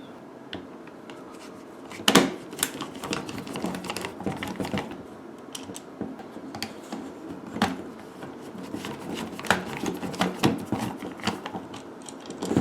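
Screwdriver with a magnetic bit loosening the small screws on an Xbox 360 controller, close-up faint clicks and scraping taps scattered through the clip, with a sharper knock partway in.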